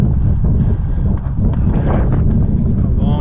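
Wind buffeting a cyclist on the Great Lakes Waterfront Trail in Ontario, a loud, steady low roar rumbling against the microphone throughout, with a voice faintly mixed in.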